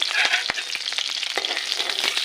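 Onions sizzle and crackle in hot oil close by, a steady frying hiss with occasional sharp pops and stirring scrapes.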